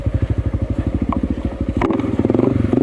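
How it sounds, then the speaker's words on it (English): A motorbike's engine turns over with a fast, rhythmic chugging, then the starter catches with a rough clatter and the engine settles into a quicker, harsher buzzing beat, loud and close. "the bike started making a funny noise when I start it"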